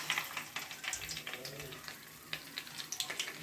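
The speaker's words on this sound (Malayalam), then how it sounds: "ഇനി നമുക്ക് ഓരോന്ന് മുക്കി പൊരിച്ചെടുക്കാം." Quail egg fritters dipped in batter crackle and sizzle softly in hot oil, with a faint, steady bubbling and scattered small pops.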